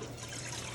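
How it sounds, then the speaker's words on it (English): Cold water pours steadily into a medium pan for cooking cornmeal sadza, a soft continuous trickle heard faintly and briefly. "She's gonna put the 1 cup of cold water,"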